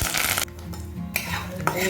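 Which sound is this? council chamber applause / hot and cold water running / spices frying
spices frying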